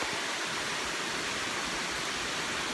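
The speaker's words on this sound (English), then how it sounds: "200-foot waterfall." A 200-foot waterfall pouring in rainy weather, a dense, steady broadband roar filling the scene without pause, loud and unbroken, with no voices.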